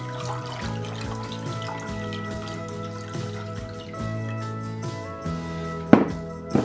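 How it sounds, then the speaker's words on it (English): Distilled white vinegar is poured into a refrigerator dill pickle brine mix as a steady trickle of liquid, with a couple of sharp knocks near the end. "if you'll add the 2 cups of distilled vinegar, clear or white distilled vinegar."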